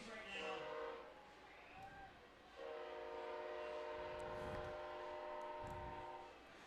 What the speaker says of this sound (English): Another train passes us for Wolf Field.